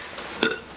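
A single short burp, brief and close, over a faint background hiss.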